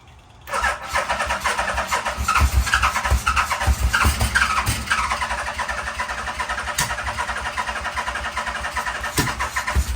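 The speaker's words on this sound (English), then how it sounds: "So, you want me to try and start it?" A 1987 Yamaha engine cranks and catches with the choke on at about half a second, then runs loud and close with a rough, uneven idle and brief blips of revving.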